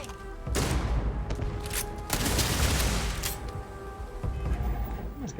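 Sustained gunfire from the video game Starfield comes as a loud, dense fusillade of rapid overlapping shots with heavy low booms, rolling on for several seconds without speech.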